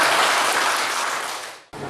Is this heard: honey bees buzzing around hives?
no